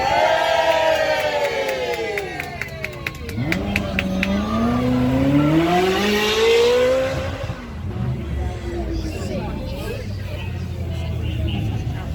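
A supercar at a Beaulieu supercar weekend is revved hard as the driver floors the throttle, the engine note climbing and sweeping upward over several seconds. It sounds close and loud, with a crowd murmuring and people talking nearby.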